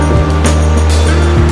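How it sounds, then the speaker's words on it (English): An outdoor waterfall pours down, a loud, steady rushing roar with a low droning hum underneath and no voices. "So we got this waterfall thing here, then it kind of goes down over here."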